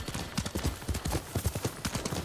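Horse hooves gallop in Ghost of Tsushima, a quick rhythmic clip-clop of repeated hoofbeats at moderate volume, steady and unbroken.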